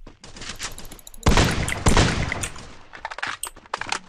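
Bursts of rapid gunfire in a shooter video game, with loud overlapping volleys that crack close, then fade into scattered shots.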